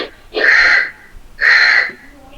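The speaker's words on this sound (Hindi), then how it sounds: "कौवा कहाँ बोल रहा है?" A crow caws twice, loud, harsh, drawn-out calls about a second apart, heard close up, with quiet background noise between them.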